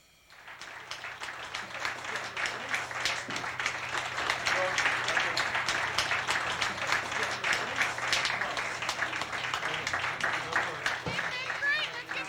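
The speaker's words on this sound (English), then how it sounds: "Great, let's give a round of applause." Audience applause at a live on-location dating game show, swelling quickly into sustained dense clapping from a crowd that holds steady for several seconds, with a voice briefly audible in the mix.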